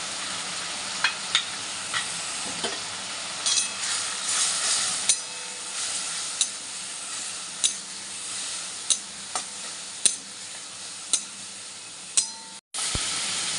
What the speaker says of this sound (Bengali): আমি আলুটা আলাদা করে ভাজিনি এর সঙ্গেই ভেজে নেব